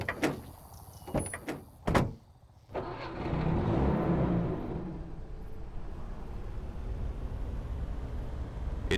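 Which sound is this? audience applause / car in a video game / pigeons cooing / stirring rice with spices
car in a video game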